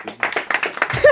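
A comedy show audience clapping in a theatre, a scattered, uneven burst of a few hands rather than full applause, close and fairly loud, with a voice briefly over the end.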